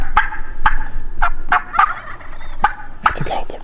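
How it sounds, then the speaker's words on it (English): Wild turkey gobbler gobbling on public land in Oregon during an afternoon hunt, a string of sharp, rattling gobbles and calls repeating at short intervals, moderately close and clear over a quiet outdoor background. "That's a gobbler, dude."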